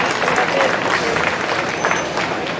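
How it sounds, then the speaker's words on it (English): A county fair crowd gives sustained applause for young competitors, steady, fairly close clapping that carries evenly from start to finish. "let's give these kids one more big round of applause for all their efforts"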